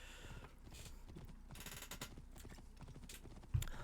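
A horse gallops in Assassin's Creed Origins, its hooves a quick, even clip-clop at low volume with a brief soft thump near the end.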